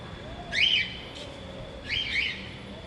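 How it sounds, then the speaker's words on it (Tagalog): A parrot in a garden at Crocolandia in Talisay, Cebu, gives two loud, rising whistled calls about a second apart, close by, over a low outdoor hum with no talk. "Yung parrot."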